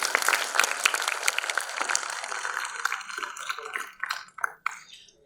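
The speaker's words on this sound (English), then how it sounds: "With a big round of applause" Sustained applause from a crowd fills the room at an onstage talk with a filmmaker, dense and steady, then thins into scattered, fading claps near the end.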